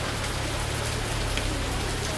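Heavy rain pours steadily over a market street, a dense, unbroken hiss of drops drumming on surfaces, loud and close with a low rumble beneath and no voices.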